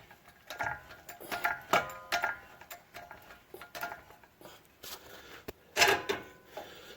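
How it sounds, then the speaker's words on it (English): A bottle jack being pumped to raise the suspension of an 04-09 Durango during a sway bar link replacement: a close series of sharp, dry clicks and taps in a loose, repeating rhythm, with no talking. "bottle jack here. I'm going to raise this up, get this in line"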